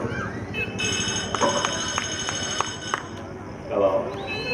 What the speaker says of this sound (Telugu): ఫోన్ ఎవరితో చూడు.